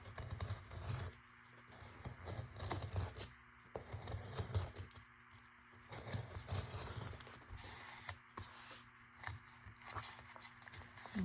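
Scissors cut away ripped book pages in a series of soft, uneven snips and paper rustles, close and quiet with no talking.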